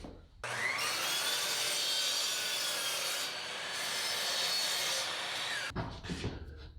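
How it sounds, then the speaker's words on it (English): A table saw rips through a wooden fence piece for a taper jig, its loud, steady whine holding for about five seconds before the blade cuts out and spins down, with no one talking. "I'm going to cut my fence just a little bit shorter than the base so it never goes over the edge"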